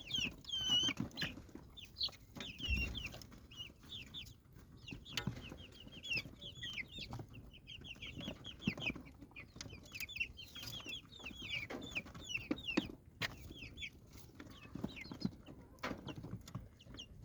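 Many native-breed chicks peep constantly in high, overlapping chirps, with soft rustling and pattering underneath and no talking.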